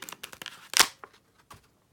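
Plastic night light packaging opened by hand without scissors, giving a quick run of crisp crinkling and tearing taps that peak in one loud rip near the middle, followed by a few faint rustles.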